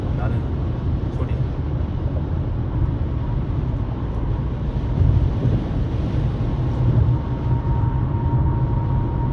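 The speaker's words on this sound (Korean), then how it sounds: "근데 이렇게 세게 달리면 바람 소리가 더 커요. 백밀러에 부딪혀가지고 나는 소리." A Renault XM3 1.6 LE at speed produces a steady, dense wind roar as air strikes its side mirrors, a continuous broadband rush that swells slightly midway and stays close and constant.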